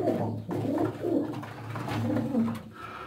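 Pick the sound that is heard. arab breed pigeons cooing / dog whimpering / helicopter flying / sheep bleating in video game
arab breed pigeons cooing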